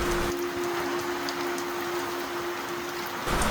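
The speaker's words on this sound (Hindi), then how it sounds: "बारिश देखो आप बाहर, इतनी तेज़ बारिश हो रही है" Heavy rain pours outside a cafe in Kalpa, Kinnaur, Himachal, a dense, even hiss of falling water with a faint steady hum underneath, unbroken and without voices.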